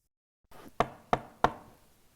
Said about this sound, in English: the wolf knocked at the door